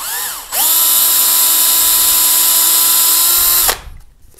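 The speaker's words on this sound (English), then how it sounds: "I'm just going to drill through" Power drill boring a 2mm hole through a guitar fretboard in the first fret slot on a Telecaster-style build, a loud steady whine that spins up, holds for about three seconds, then winds down.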